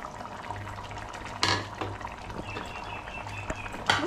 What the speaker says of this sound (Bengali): এই ফুটছে, বেশ ভালোই ফুটছে।